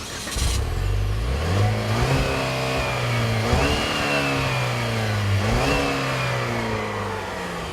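A 2014 Buick Regal GS accelerates hard from 0 to 60 mph, the engine note climbing steadily through several gear shifts with brief dips between, a loud continuous rising drone heard from inside the car.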